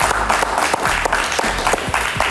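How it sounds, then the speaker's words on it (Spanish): Applause from a Spanish-language television studio audience on María Elvira Salazar's appearance on Bayly's show, a dense continuous burst of many hands clapping, loud and close for a couple of seconds. "Un aplauso y un aplauso"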